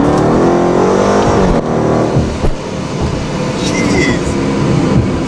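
A procharged Dodge Scat Pack accelerating hard inside the cabin, its loud engine drone rising in pitch and dropping sharply at firm gear shifts, with a second climb afterward.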